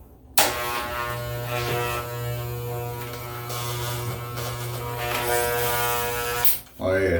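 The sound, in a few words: electric hair clippers cutting a fade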